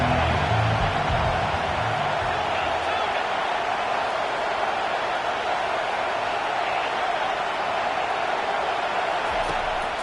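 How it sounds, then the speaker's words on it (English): Home stadium crowd in a college football video game roars as a steady, dense wall of noise that holds at a constant level for the whole stretch, with no distinct voices standing out. "Man, this crowd really affecting the football game."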